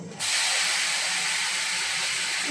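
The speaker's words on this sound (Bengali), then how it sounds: "আবার কেন ছিটছে? টমেটো আবার কেন ছিটছে?" Tomatoes spatter loudly in hot oil in a fish curry pan with black cumin, a sudden hissing burst that jumps up and holds steady as a dense, close sizzle.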